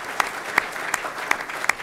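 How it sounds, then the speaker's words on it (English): Sparse, scattered clapping from a small audience at a city finance presentation, a handful of distinct sharp claps spaced unevenly over a quiet room rather than a full ovation. "How about a round of applause for Rachel?"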